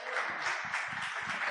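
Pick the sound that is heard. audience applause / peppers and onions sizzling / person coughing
audience applause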